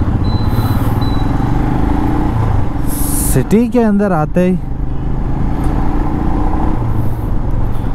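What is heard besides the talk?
city road traffic with motorcycles and cars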